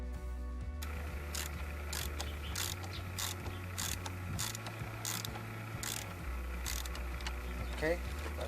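A hand ratchet turns a 10mm socket on a car battery terminal of a Nissan Altima, giving about a dozen quick, crisp clicking bursts in a steady rhythm, close and fairly quiet, with low background hum.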